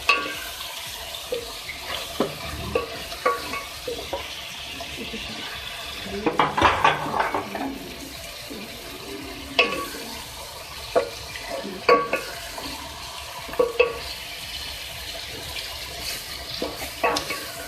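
A spoon scrapes and stirs ground spices (turmeric, red chilli, coriander) in a pot for beef aloo gosht, with scattered clinks and soft sizzling, the strokes irregular and close, with no talking.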